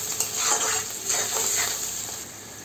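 Sajna drumstick stalks and katla fish curry with whole garlic being stirred in a pan, a continuous sizzle with soft scraping under it.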